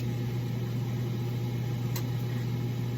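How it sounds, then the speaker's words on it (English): A kitchen stove vent fan runs steadily over a cast iron skillet, a loud constant hum with an airy whir and no pauses. "now it's going to get loud because you kind of really do have to have your vent on"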